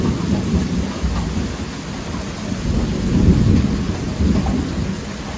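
Heavy rain pours down in a dense, continuous hiss while thunder rolls low and rumbling through the downpour, swelling louder midway.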